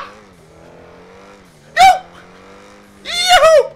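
Porsche Panamera in the video game GTA, with a low steady engine hum broken by two loud, short tire skids, the second one longer and squealing.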